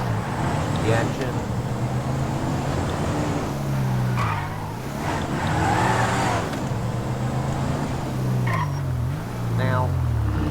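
Ford Crown Victoria engine from a game sound pack, a steady low rumble with several rising and falling revs, heard close and continuous throughout.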